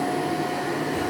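Vacuum cleaner switched on and running, a steady continuous motor drone with a fixed whine throughout, close and alone with no talk.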